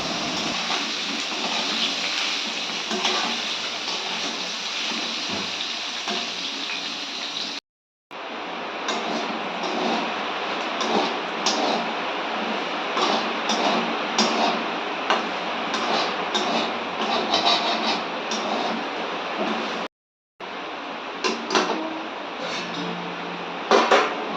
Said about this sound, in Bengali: বাইরে বৃষ্টি হচ্ছে, তো প্রচুর বৃষ্টির আওয়াজ হচ্ছে শোঁ শোঁ করে